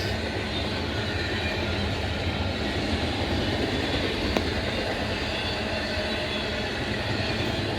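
A long freight train hauling shipping containers rolls steadily past near Oak Harbor, Ohio, a continuous loud rumble and rattle of railcars with one brief sharp clank partway through and no voices.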